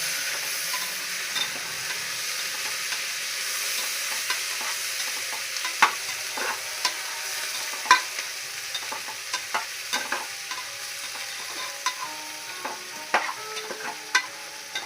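Onions frying in a pan, a steady soft sizzle with frequent clicks and scrapes as the spatula stirs them, close and moderately loud, with no voices.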